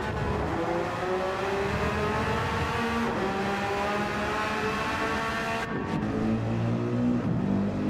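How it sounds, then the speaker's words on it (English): Mercedes-AMG GT3-class race car engine in Gran Turismo 7 at Suzuka, a steady droning exhaust note with rising and falling revs through gear changes, loud and continuous with no voices. "I do love the sound of the AMG though."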